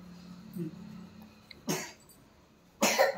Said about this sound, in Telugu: దగ్గు వస్తుంది నోట్లో పెన్సిల్ పెట్టుకుంటే